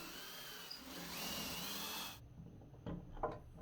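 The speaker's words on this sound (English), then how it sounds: "I drilled the holes for the handle." A drill whines steadily up close while making holes for a cedar sliding barn door handle. It cuts off after about two seconds, and a few quieter knocks and handling clatters follow, with no talking.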